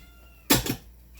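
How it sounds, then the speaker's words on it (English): A pet cat lets out a single short meow close by in a home kitchen, a quick bright cry standing alone against quiet room tone. "I have a kitty cat meowing."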